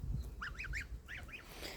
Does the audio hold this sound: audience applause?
no